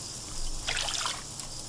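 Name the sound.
water filling a dug area in Craft the World video game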